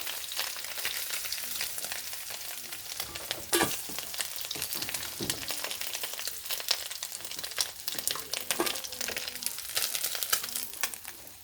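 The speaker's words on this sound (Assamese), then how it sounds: "আৰু মোৰ মাছখিনি ফ্ৰাই কৰা হৈ গৈছে।" Fish pieces frying in a pan of hot oil while an Assamese fish curry is made, a steady dense sizzle with crackles and spitting pops running throughout, no talking.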